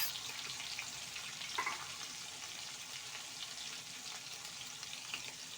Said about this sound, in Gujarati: આ તેલ ગરમ થઈ જાય ત્યારબાદ આપણે આદુ મરચાં અને લસણની પેસ્ટ લીધી છે તે આની અંદર એડ કરીશું